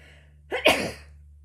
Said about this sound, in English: I'm gonna sneeze, pardon me